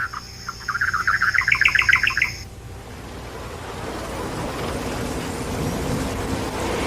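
Small birds at a woven nest atop papyrus at a lagoon chirp in a quick, bright run of close tweets for about two seconds, then fall silent under a soft, steady wash of water and wind.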